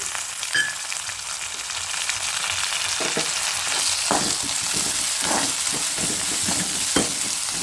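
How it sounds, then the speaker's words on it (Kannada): Carrots and mixed vegetables fry in hot oil for vegetable uppittu, a steady close sizzle with scattered crackles and occasional scraping stirs, no voices. "ಇದೆಲ್ಲ ಒಂದು ಎಣ್ಣೆ ಒಳಗೆ ನೀಟಾಗಿ ಫ್ರೈ ಆಗುತ್ತೆ ನೋಡಿ"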